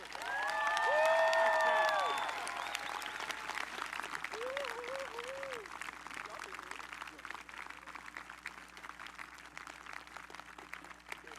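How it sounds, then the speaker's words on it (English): Sustained crowd applause at a 2020 high school graduation ceremony, loud at first and then settling into a steady, dense clapping wash, with a voice and some whoops carrying over the opening seconds. "Can we just give another round of applause to that amazing speech?"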